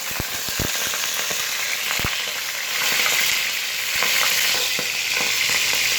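Chicken gizzards sautéing in hot vegetable oil, a loud continuous sizzle broken by scattered sharp pops and spatters, close up.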